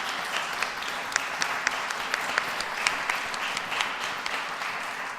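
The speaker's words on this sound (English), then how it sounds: "Can I have a round of applause for the audio people?" An audience at a senior music recital claps steadily throughout, a dense patter of many hands with a few sharper individual claps standing out.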